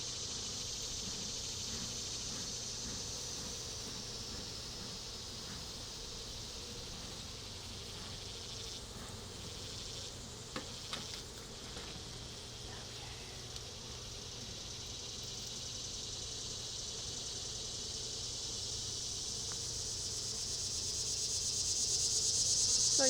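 A continuous high drone of honeybees in an open hive that hums steadily for a long stretch, with faint scattered clicks and a slight swell toward the end.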